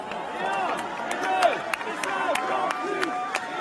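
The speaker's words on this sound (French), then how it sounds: "la foule qui scande et 1 et 2 et 50 plus" A large crowd chants at an Emmanuel Macron rally in France, a dense, steady roar of many voices with sharp rhythmic claps or beats recurring throughout, filling the space at close range.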